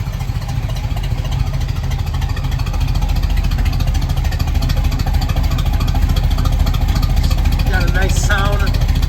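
The exhaust of a 1967 Pontiac Firebird rumbles loudly and steadily up close, with a voice briefly heard near the end.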